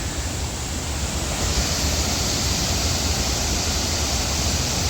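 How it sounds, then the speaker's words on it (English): A loud, unbroken roar of rushing, falling water at Buttermilk Falls fills the scene, steady throughout with no voices. "That is Buttermilk Falls."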